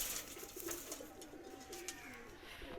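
Pakistani high flyer pigeons, red-type males, give soft repeated coos at a faint, steady level over quiet background hiss.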